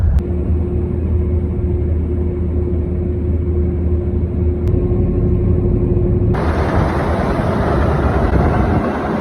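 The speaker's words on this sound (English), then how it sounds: "I'm going to nip up here, chuck the Land Rover around the corner" A Land Rover driven on a farm, a loud steady engine rumble heard from inside the cab with a constant low drone, shifting to a harsher, brighter roar partway through as the load changes.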